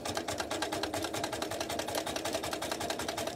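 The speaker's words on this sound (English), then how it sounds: "So I'm just going to top stitch these a quarter of an inch away from the folded edge." Sewing machine top stitching folded fabric a quarter inch from the edge with a widened stitch, a steady rapid mechanical chatter running continuously and close up with no talk.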